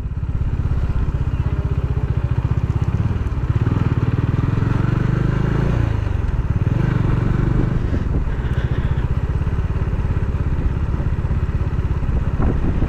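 Motorcycle riding on a slope with the clutch released, a loud close steady engine drone with low rumble and some clatter, shifting slightly in tone midway.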